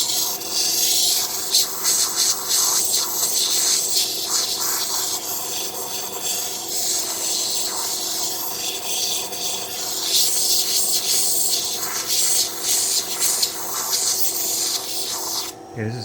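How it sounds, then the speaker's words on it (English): An intarsia wood piece is ground and smoothed, producing a continuous rasping, rubbing whir with slight fluctuations that runs steadily throughout at close range. "And grind a little more."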